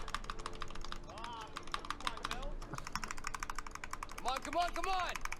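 Rapid, steady clacking of computer keys, fairly close, running throughout while people talk and a voice rises over the tapping.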